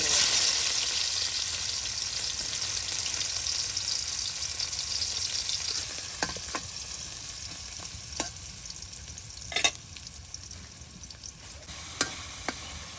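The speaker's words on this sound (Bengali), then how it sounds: "ইলিশ মাছের টুকরাগুলো মশলার সাথে সুন্দর করে কষানো হচ্ছে, ভাজা ভাজা করে নেওয়া হবে" Steady crackling sizzle of hilsa fish pieces frying in hot oil with spices, with a few sharp scrapes and clinks of stirring, close and continuous throughout.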